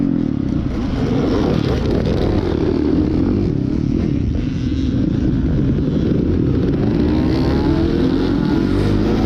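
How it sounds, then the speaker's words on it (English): A Suzuki 450 dirt bike engine runs loud and close at a cross-country race, its throaty rumble holding steady with rough revving surges and mechanical clatter throughout, no talk over it. "Well, the bike started up okay, but I missed my gear shift."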